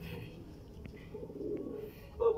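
Racing pigeons arriving home at the final lap of a race in Pagudpud, Ilocos coo softly, with low murmuring calls and a few faint clicks over steady background noise.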